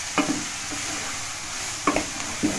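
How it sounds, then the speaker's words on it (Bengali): Capsicum pieces being stirred in a pan over a medium flame, a soft low sizzle broken by a few distinct spatula scrapes and taps, fairly quiet and close, no voices. "আর দিয়ে দিচ্ছি ক্যাপসিকামগুলো, ভালো করে নেড়ে নেবো, এটা মিডিয়াম ফ্লেমে একটু নেড়ে নিতে হবে।"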